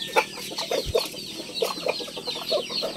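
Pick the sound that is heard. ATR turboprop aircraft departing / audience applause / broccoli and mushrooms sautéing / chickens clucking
chickens clucking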